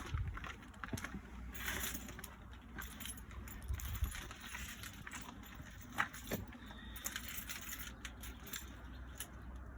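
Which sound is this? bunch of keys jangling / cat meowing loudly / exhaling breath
bunch of keys jangling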